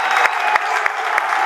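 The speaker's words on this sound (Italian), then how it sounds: "applausi per i ragazzi del Nardò" Applause from spectators for the Nardò football players at halftime of a goalless match, a steady clapping wash broken by a few sharper claps and faint crowd noise.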